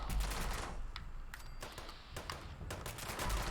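Rapid automatic gunfire from a handmade rifle with quad faster fire rate and 90% reduced weight in a video game, a dense continuous stream of close, loud shots running through the whole stretch.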